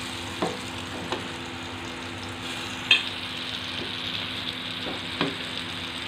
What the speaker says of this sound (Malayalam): ഇതിലേക്ക് മീനിടാം. അപ്പോൾ എണ്ണയൊക്കെ ഒഴിച്ചിട്ട് ചട്ടി ചൂടായി.